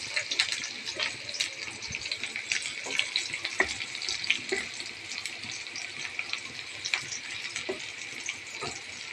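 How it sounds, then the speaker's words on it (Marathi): Onion frying in a pan with curry leaves and garlic for a usal curry, a continuous wet, crackling sizzle with scattered pops and spatula scrapes, close and fairly quiet, no speech. "कांदा व्यवस्थित लाल भाजून घेऊ"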